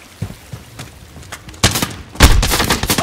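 Gunfire from the video game Call of Duty: Modern Warfare 2019 in a team deathmatch at Hovec Sawmill. Scattered shots come first, then heavy bursts and booming volleys that turn loud and dense near the end.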